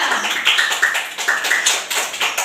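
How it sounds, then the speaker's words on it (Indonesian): A primary-school class claps together during a maths lesson, producing short rhythmic bursts of close, bright hand claps in a repeating pattern, with no speech over it. "Tepuk tangan untuk kelompok 2."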